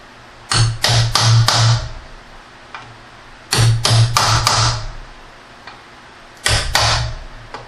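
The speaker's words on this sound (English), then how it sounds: "I'm just going to use a little extension with the hammer here." A hammer strikes a metal extension in three loud, close clusters of four or five quick ringing taps, pressing back valve cover tabs on a Lexus ES300, with short pauses between bursts and no talk.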